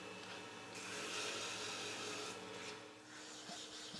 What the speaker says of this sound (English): So now do a quick sanding job.